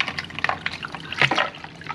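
Ice water pours and splashes into a container for a smoked fish brine, a close, bubbling liquid trickle with small clinks and gurgles at moderate volume.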